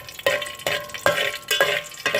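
Whole cardamom pods and cloves fry in two tablespoons of hot ghee, a soft sizzle broken by about six sharp scraping stirs at a steady pace, close and clear with no talking.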